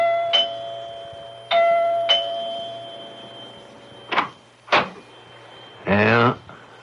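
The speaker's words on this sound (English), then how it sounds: "Dr. Lem Regan rings the doorbell of Clyde Wilkins' house" Doorbell of a house sounding as a radio drama effect, ringing two-tone chimes followed by sharp knocks or door handling noises and a short voice at the end, fairly close and clear.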